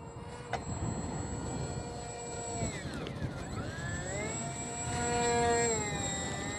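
A Modster Easy Trainer 800 RC model airplane flying on a slope, its small electric motor whining and revving with rising and falling pitch, fairly faint and distant against outdoor wind.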